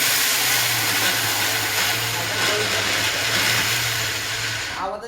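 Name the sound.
electric mixer grinding sesame and jaggery for ladoos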